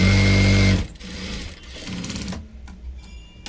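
A sewing machine stitching a blouse runs in a fast, loud mechanical whir up close, then stops and gives way to soft intermittent ticks and clicks of the mechanism.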